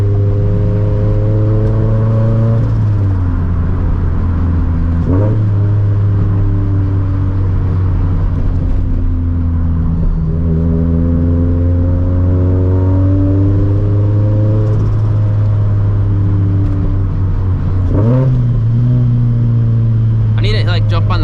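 A 400-horsepower turbocharged FRS engine drones loudly and steadily while driving, its pitch climbing and falling through several rev swells and gear changes, with a brief higher whine near the end.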